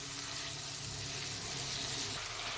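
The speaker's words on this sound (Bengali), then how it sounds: "খুব ভালো করে এবার মশলাটা কষিয়ে নিতে হবে।" Spice masala for egg curry with vegetables sizzles and fries in a pan, a steady close hiss with soft crackle throughout and no talking.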